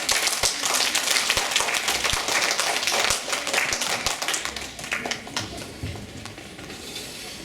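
An audience at a children's music recital applauding a young bassoonist, dense clapping from many hands that is strong at first and then thins and softens toward the end.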